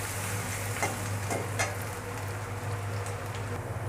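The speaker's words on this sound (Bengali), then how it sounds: "পেঁয়াজটাকে আমি বাদামি রং করে ভেজে নেব।" Chopped onions fry in hot oil in a pan while being browned for a broiler chicken curry, giving a steady, close sizzle with soft spattering and light stirring clicks, with a low hum underneath.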